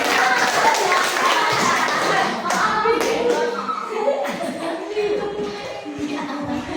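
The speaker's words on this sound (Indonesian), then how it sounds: "tepuk tangan untuk kalian semua" Group of participants clapping during a coaching session, a loose burst of hands with taps and shuffling, fading as people begin chatting and moving around.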